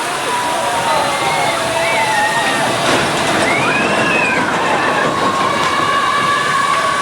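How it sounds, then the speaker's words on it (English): A Big Thunder Mountain Railway ride train rolls past with a loud, steady rumble and squealing wheels, the rush of a nearby waterfall underneath and people talking over it. "And here comes another train."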